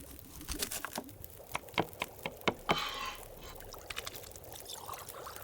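Water pours into a container for broth in The Long Dark, a short hissing pour heard among scattered small clicks and taps, faint and close.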